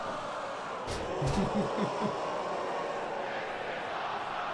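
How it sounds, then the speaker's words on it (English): A wrestling crowd cheering during a match, a dense wash of distant roaring voices that swells briefly with shouts, under no clear talk. "the crowd is loving this match"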